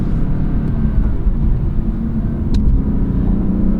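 A 2017 BMW M3 F80 with automatic rev-matching on downshifts gives a loud, close, low engine rumble that holds steady throughout, with no voices.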